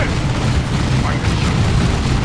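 Grenade explosion in the Warhammer 40k: Dawn of War 2 strategy game, a loud rumbling low boom sustained through a dense continuous battle din with no distinct separate blasts.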